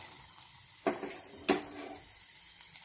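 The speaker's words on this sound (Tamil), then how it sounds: "கொஞ்சமா எண்ணெய் ஊத்தி கொஞ்சமா கடுகு போட்டதும் கடுகு பொரிஞ்சதும்" Mustard seeds splutter in a little hot oil in a kadai, faint sizzling broken by two or three sharp pops and spoon taps against the pan, quiet and close.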